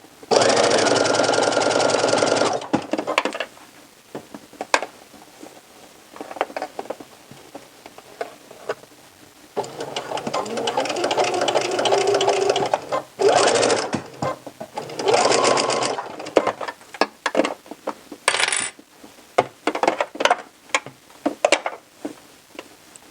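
A sewing machine stitches along a sweater-knit seam, running in loud bursts that start and stop, slowing over a thick hump in the seam, with brief pauses and ticking between runs and no talk.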